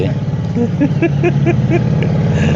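A small ZT140 farm tractor engine runs with a steady, low throbbing chug, close and fairly loud, while someone talks over it.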